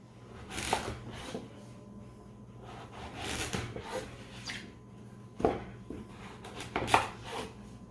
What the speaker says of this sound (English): cut this pumpkin where you get. And you want to put it in fours